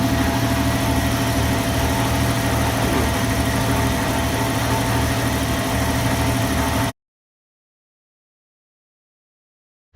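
A 1998 Jeep Wrangler TJ engine idles with its AC compressor running. It makes a steady, close mechanical drone for about seven seconds, then cuts off abruptly into silence.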